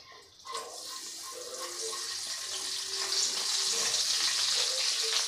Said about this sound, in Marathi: आता या तेलामध्ये आपल्याला घालायचं आहे अर्धा चमचा जिरं आणि अगदी चिमूटभर हिंग।